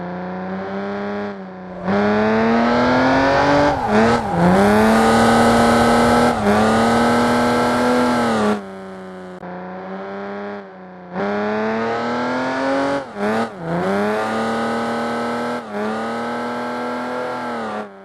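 A car drifting with a loud engine that revs up in two long bursts, pitch climbing and dipping as the throttle is worked, with brief drops between pushes.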